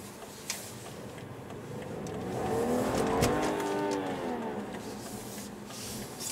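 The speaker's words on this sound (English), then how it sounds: "Still so high revving." BMW G30 540i xDrive sedan at night on a winter road, its engine revving up and rising in pitch then easing off as it drives, heard from inside the cabin, moderate and smooth with faint ticks.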